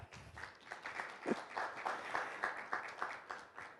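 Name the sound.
audience clapping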